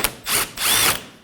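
Power tool zipping out 10mm bolts on the bumper of a 2014-2020 Acura MDX: two brief, close high-pitched whirring bursts, the second slightly longer, with no talking.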